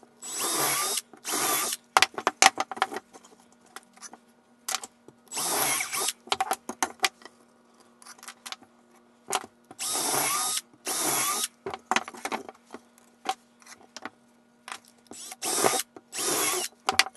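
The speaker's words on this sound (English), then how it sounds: "it can show you where to drill a hole" An electric drill bores holes in pallet boards for a bookshelf build, running in repeated bursts of high whine separated by pauses, handling clatter and ratcheting clicks. Nearby and fairly loud, with no one speaking.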